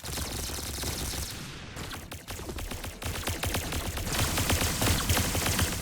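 Rapid automatic gunfire in the Roblox shooter game Arsenal, dense continuous bursts of clattering shots with a short break midway, loud and close with no talking.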